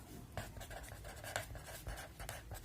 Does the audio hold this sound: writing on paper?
yes